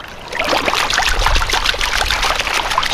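Water pouring and splashing off a gold pan as it is lifted out of a tub while working clay material, a continuous close, loud rushing trickle lasting a few seconds.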